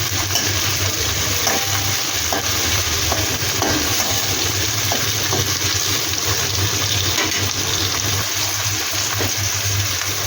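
Chopped tomatoes frying in a pan with onion for a chicken curry, a steady continuous sizzle with faint stirring clatter throughout, loud and close with no talking.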